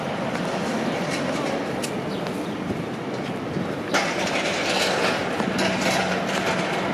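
A Toronto Line 1 subway train rumbles past beneath a downtown street, a loud continuous roar with rhythmic clickety-clack of wheels that swells louder partway through, heard from street level.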